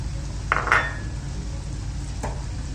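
Carrot halwa being stirred in a pan, with a few sharp metallic spoon scrapes and clinks against the pan over a low steady background hum, no talking.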